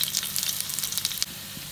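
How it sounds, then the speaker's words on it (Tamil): Onions and tamarind sauté in hot oil for stir-fried beans, a steady close sizzle of crackling frying with no talk. "எண்ணெய் சூடானோடனே கருப்புளியும் வெங்காயத்தையும் போட்டுருங்க. போட்டுட்டு எண்ணெயில் நல்லா வதக்குங்க"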